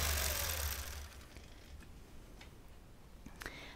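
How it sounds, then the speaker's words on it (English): A longarm quilting machine stitches a straight line across a small wholecloth quilt, a quiet steady ticking mechanical hum after a brief louder whir at the start. "I've got my vertical channel lock on, so I know I'm stitching a straight line"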